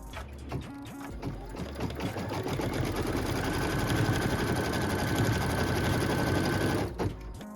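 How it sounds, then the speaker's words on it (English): A sewing machine stitches a quilt block, sewing a tack-down and cut line on fabric: a close, loud, steady mechanical whir and rapid needle chatter running for several seconds after a few short starts, then stopping. "So we're stitching a tack down and cut line."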